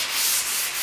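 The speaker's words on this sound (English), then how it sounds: "And then the same applies with that flat file. And it's actually slightly better. Doesn't do as much damage, not as sharp," A flat file rubs across a car bonnet panel in one close, loud, harsh rasping stroke that lasts under a second, with no voices.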